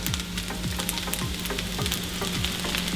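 Sausage tossed into breakfast fried rice in a hot pan, giving a continuous close sizzle with a few quick scraping strokes of a spatula.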